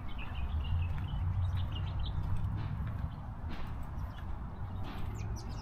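Birds chirp in a park with trimmed trees, scattered short, faint calls over a constant low rumble of outdoor background noise.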